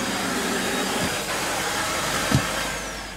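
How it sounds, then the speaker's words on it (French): A vacuum cleaner running on board during a coccolithophore research voyage, a steady loud droning whine with a couple of soft bumps as it moves, heard close and without speech. "Moi je passe aspirateur."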